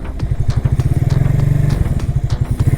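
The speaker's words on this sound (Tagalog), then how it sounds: "pwedeng rev nyo konti para pumasok sa neutral" An FKM Agimat 175 motorcycle engine running close by with a loud, throbbing low pulse that surges briefly as it revs, no voices over it.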